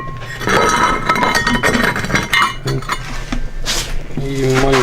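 Hard little clinks and scrapes of broken plate shards being shuffled and knocked together, fairly close, with a voice speaking briefly near the end.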